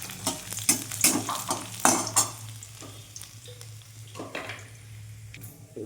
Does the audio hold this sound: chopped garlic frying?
yes